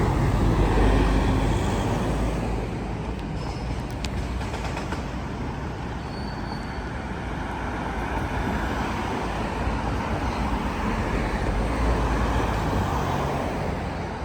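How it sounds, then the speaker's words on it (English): Traffic passes steadily along a city street with construction work nearby, a continuous broad roadway rumble that is loudest at the start and then stays even and fairly close. "Just wait for these cars to clear so I can get"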